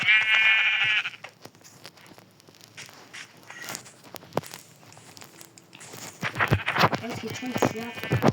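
Sheep bleat in a block-building video game, a loud burst at the start and another cluster near the end, with scattered clicks and game noises in between.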